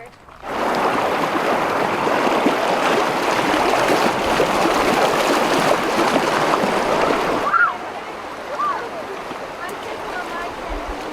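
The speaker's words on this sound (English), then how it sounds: "I hear the water." A river flows close by with steady rushing water, broad and continuous, easing slightly toward the end with a couple of faint chirps over it.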